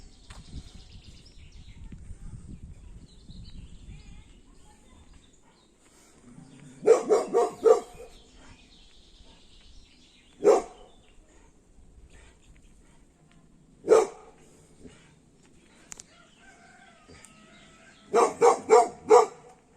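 A dog barks in short clusters and single sharp barks, spaced apart, moderately close, with quiet outdoor background between them, in a village in Ayancık, Sinop, Turkey.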